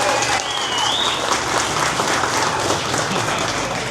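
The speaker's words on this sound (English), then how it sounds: "let's give them a round of applause" Steady applause from a crowd, dense clapping sustained throughout, with a brief whistle near the start.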